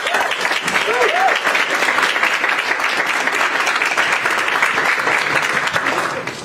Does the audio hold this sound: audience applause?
yes